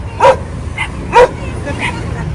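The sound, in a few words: dogs barking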